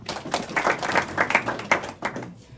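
Students in a court building give a round of applause, a brisk burst of hand claps with rhythmic clusters that fades out after about two seconds.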